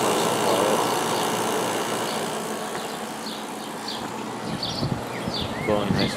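White Westinghouse 5200 BTU window air conditioner with a Goldstar compressor running, a steady close hum with fan whoosh and some faint chirping in the background.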